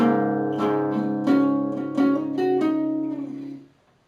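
Electric guitar plays the third part of a main riff, a few sustained, harmonically rich chords struck in turn and ringing close and loud before fading out near the end, with no voice.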